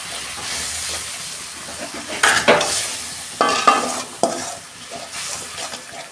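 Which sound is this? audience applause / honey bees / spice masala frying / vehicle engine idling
spice masala frying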